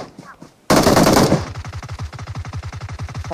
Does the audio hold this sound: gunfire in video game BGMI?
yes